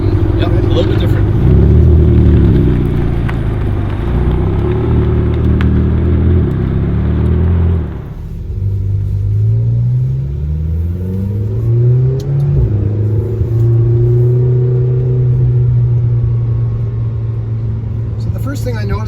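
A McLaren GT engine pulls hard through rising revs, drops at a gear change around the midpoint, then climbs again in a loud sustained in-cabin drone, with a voice speaking over it.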